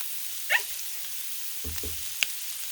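Garlic and shrimp sizzle on a hot Blackstone flat-top griddle with a steady, hissing fry, broken by a few soft clicks and light scraping taps; no voices.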